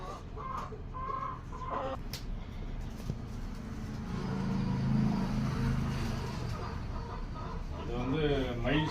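Peacock-coloured Valloor mayil rooster, five years old and kept for its long tail, clucking in a farmyard under continuous nearby talk, with a low engine hum in the background.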